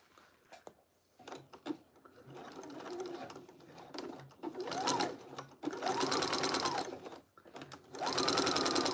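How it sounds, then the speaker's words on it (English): A sewing machine stitching fabric close to a fold while finishing a diamond art piece, running in several bursts of rapid mechanical whirring and ticking with short pauses between, close and clear. "I'm trying to stitch very close to the fold."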